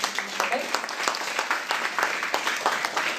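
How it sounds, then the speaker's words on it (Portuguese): Church congregation applauding at the close of a worship service, with distinct sharp claps from nearby hands over a broader crowd clapping, and voices mixed in. "vamos terminar o culto dando um forte aplauso ao nome do Senhor."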